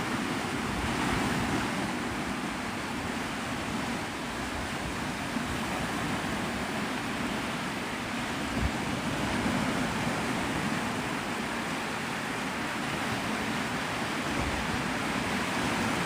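Steady ocean surf washing ashore on Navarre Beach, Florida before sunrise, a continuous broadband roar with wind buffeting the microphone and no distinct breaks between waves.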